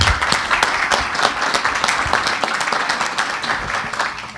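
Warm, steady applause from a forum audience at a cultural-industries event in Peru, a close, busy patter of many hands clapping throughout, tapering slightly near the end.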